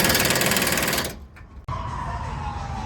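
An impact gun tightens the shock bolts on a Ford F150 during a Rough Country rear shock install: a loud, rapid hammering burst stops after about a second, then a short clank, then a steady whirring hum.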